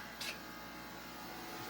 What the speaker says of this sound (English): You've got a dehumidifier running